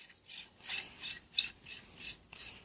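Pole spear sections being screwed tightly together, the threads grinding as an O-ring is compressed, heard as about seven close, rhythmic rasping twists with no talking.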